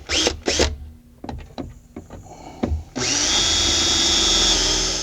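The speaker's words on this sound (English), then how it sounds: "If you don't pre-drill this, the plexiglass will break." A few sharp knocks and taps, then a power drill whirs steadily and loudly, close by, pre-drilling plexiglass for an RV entry step light, for the last two seconds.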